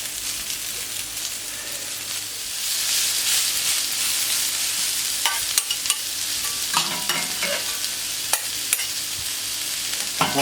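Grilled Catalan-style vegetables with a few black olives simmer in olive oil in a pan, giving a steady, close hiss and sizzle. A few light clinks and scrapes come near the end, and no one speaks.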